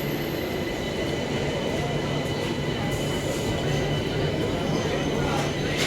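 A galloping local train runs past a station close by with a loud, continuous roar and a steady mechanical hum, and faint voices are mixed in.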